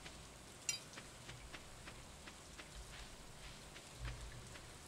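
Soft rain falls steadily in the Stardew Valley farming game, a faint hissing patter with scattered light ticks and one brief sharp click near the start, quiet and with no talking.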